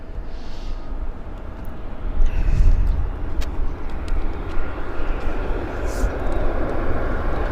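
Airplane landing at Vancouver YVR airport, a steady loud roar of jet engines building slightly and then holding, heard from a spotting position with background rumble.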